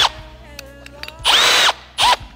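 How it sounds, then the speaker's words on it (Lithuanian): A Milwaukee drill fitted with a sheet-metal bit bores through metal on a Dodge TRX build: a quiet motor whir, then two loud, harsh bursts of the bit biting in. "Na tai bandysim įrankį, kuris skirtas metalui gręžti, bet labiau skardai"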